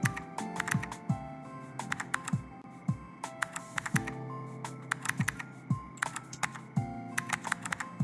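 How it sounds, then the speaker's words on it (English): Rapid computer keyboard typing in the game CozyTyper, with soft, fairly muted, flat-sounding keystrokes in uneven bursts, close by, with no voices. "the sound of my keyboard is a little bit flat"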